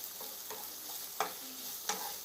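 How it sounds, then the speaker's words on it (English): Onions sauté over low heat in a pan, a soft, steady sizzle broken by a couple of sharp scraping clicks as a utensil stirs them, quiet and close with no talking. "all the onions inside. Then I'm gonna stir."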